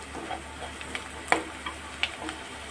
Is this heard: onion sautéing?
yes